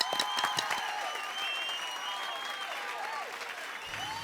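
Audience applause at a comedy poetry gathering in a Hindi sitcom scene, dense steady clapping with a few cheers and whistles, sustained at even loudness for about four seconds.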